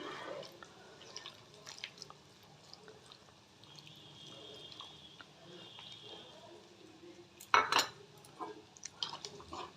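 A spoon works through chicken soup thickened with cornflour in a pot, giving soft scraping and liquid squishing sounds with one sharp metallic clank near the end. Quiet and close.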